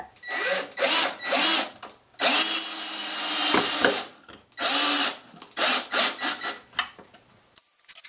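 Power drill driving screws into a pallet wood star: several short whirring bursts and one longer grinding run, close and loud, separated by brief pauses, with no talking.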